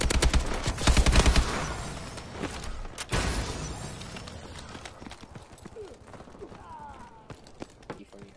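An AK-12 with no attachments fires in Call of Duty: Advanced Warfare. Rapid automatic bursts dominate the first few seconds, then fade into quieter game noise and scattered mechanical clicks.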